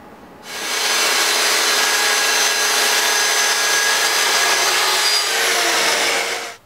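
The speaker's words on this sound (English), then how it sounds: "if you're cutting your plywood on the table saw" A table saw slices through a sheet of plywood in one steady, loud, close cut of about six seconds that winds down at the end, with no speech.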